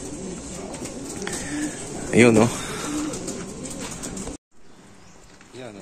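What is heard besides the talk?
racing pigeons cooing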